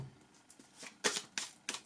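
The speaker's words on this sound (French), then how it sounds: "je bats vite fait les cartes" Tarot cards shuffled quickly by hand, a run of papery riffling bursts with three sharper flicks toward the end, close and fairly soft.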